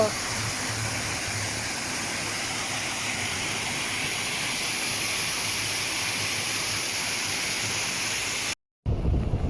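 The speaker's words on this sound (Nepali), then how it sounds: "तपाईँहरूलाई झरना देखाउँदा देखाउँदा" Loud, constant roar of a waterfall near Kathmandu, Nepal, rushing close by, a broad unbroken wash of water noise that briefly drops out near the end.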